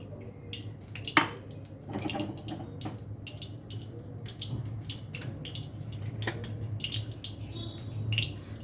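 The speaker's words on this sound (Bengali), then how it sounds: "প্রথমে আমি কড়াইতে তেল দিয়ে দেব।" Cooking oil is poured into a kadai (wok), giving a faint liquid trickle with light clinks and taps from the pan in a quiet kitchen.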